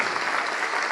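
Church congregation applauding during a sermon, a dense, steady wash of clapping from many hands that holds an even level throughout the short stretch with no voices cutting through.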